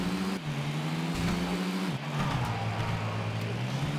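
A car is driven in the video game Tony Hawk's Underground, giving a steady engine hum that dips and shifts pitch twice as if through gear changes, moderately loud and without talk.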